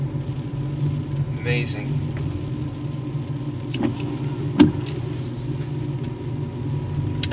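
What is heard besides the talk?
car driving up Roan Mountain road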